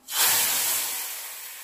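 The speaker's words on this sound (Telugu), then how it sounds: "ఈ తాలింపు అంతా సొరకాయ దప్పలంలో పోసుకుందాం." A hot tempering is poured into bottle gourd dappalam and gives one loud, close, sharp sizzle that bursts in and slowly fades as a steady hiss.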